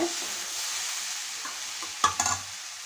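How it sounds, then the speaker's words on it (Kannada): Long beans palya being mixed with grated coconut, turmeric, jaggery and salt, Udupi temple style: a faint steady hiss with a quick burst of stirring scrapes near the end, no talking. "ತೆಂಗಿನಕಾಯಿ ತುರಿ ಅರಿಶಿನ ಬೆಲ್ಲ ಉಪ್ಪು ಪಲ್ಯದ ಪುಡಿ ಹಾಕಿರೋದನ್ನ ಚೆನ್ನಾಗಿ ಕಲಿಸ್ಕೋಬೇಕು"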